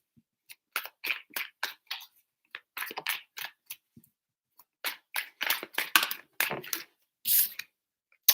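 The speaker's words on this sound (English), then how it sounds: "Three shuffles for Taurus, please." Tarot cards shuffled by hand in a daily astrology reading, a run of quick crisp riffling bursts in several separate groups, close and clear with no talk.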